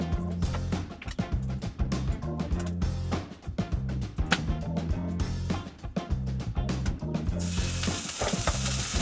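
Garlic sizzles and fries in a pan, a dense continuous crackle broken by frequent clatter from stirring, loud and close with no talk.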